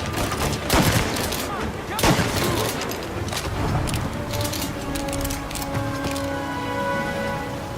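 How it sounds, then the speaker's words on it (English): Gunfire from the video game Mafia Definitive Edition, with sharp shots and bursts ringing out over a dense mix of game effects and music, fairly loud and continuous. "to create the sense that these are life and death gunfights and that every bullet counts"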